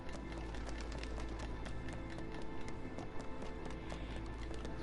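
Clip-clop of horse hooves in the Red Dead video game, a steady running rhythm of hoofbeats held close and loud over a dense game soundscape, with no talk.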